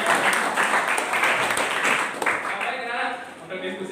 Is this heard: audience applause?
yes